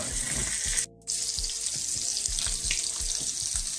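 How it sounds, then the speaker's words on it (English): Salmon fillets frying in butter in a pan give a steady, close broadband sizzle that runs continuously, broken once by a brief silent gap. "Got our butter going now. Just put our fish in."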